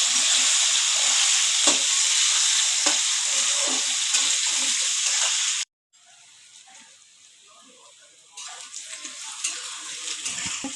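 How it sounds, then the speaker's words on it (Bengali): Chopped onions fry in a pan until reddish, a loud steady sizzle with occasional stirring scrapes that cuts out abruptly, then returns quieter before building again. "পেঁয়াজগুলোকে আমি লাল লাল করে ভেজে নেবো।"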